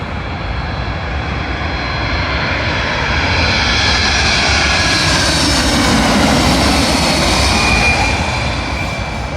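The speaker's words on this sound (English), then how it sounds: "Arriving in now is a United Boeing 767 from EWR New York," A United Boeing 767 from Newark comes in to land at London Heathrow, a loud, steady jet roar with faint whining tones that swells a little toward the middle and holds, with no talking over it.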